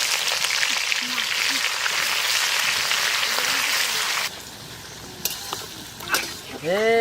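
Whole cumin seeds and onions hit hot mustard oil in a kadai at a night-time village picnic, giving a loud, steady sizzle that cuts off abruptly partway through. Voices talk briefly afterward.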